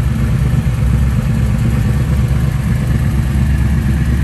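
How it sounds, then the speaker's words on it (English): A big crate V8 engine in a 1933 Ford street rod idles steadily nearby, a low, even rumble with a slight rhythmic lope and no voices. "As you can hear, it has a nice smooth idle."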